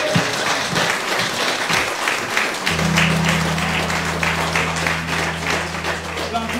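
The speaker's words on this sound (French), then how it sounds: "Donc nous allons applaudir sa proximité." A church congregation applauding during Sunday Mass, steady dense clapping from many hands, with a low sustained organ-like tone entering partway and continuing under the applause.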